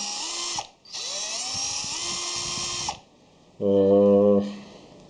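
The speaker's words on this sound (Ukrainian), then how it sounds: "В комплекті йде шуруповерт з двома акумуляторами." Cordless drill-driver, sold in a home kit with two batteries, whirring loudly at high speed in two long bursts with a brief stop between, then a short lower-pitched hum as it runs again; no talking.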